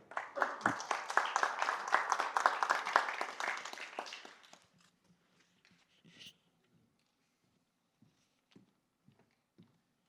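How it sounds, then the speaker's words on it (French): Conference audience applauding a doctor, a dense burst of clapping for about four seconds that stops abruptly, followed by scattered faint taps and shuffling in a quiet hall. "je vous invite à l'applaudir une nouvelle fois"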